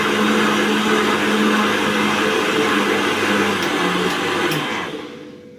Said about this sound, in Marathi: मिक्सरवरती फिरवून घ्यायचं एकसारखं.